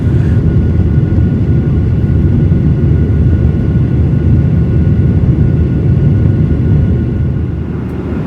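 Inside a climbing airliner, loud, steady engine roar and cabin rumble fill the whole stretch without pause, fading slightly at the very end.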